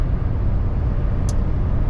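Toyota Tacoma cruising at about 73 mph on the highway, a steady broadband road and engine roar that holds even and loud throughout, with a brief faint high tick near the end.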